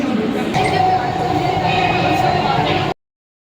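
A metro train runs at a station in Jayanagar, Bengaluru, with a continuous rumbling, whirring ride noise and faint clinks, then a sudden cut to silence.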